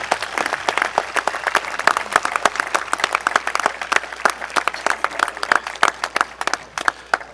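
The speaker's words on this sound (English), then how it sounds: "Please give a round of applause to the teachers and administrators that have dedicated their life's work to the education of the children of Quincy." A graduation audience at Quincy High School applauds teachers and administrators, with dense, steady clapping from a large crowd that continues at an even, fairly loud level throughout.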